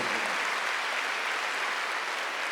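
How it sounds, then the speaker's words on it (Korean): A church congregation at a Wednesday worship service applauds in a steady, dense wash of clapping that fills the room evenly for a few seconds, with no speech on top. "박수 한번 주세요."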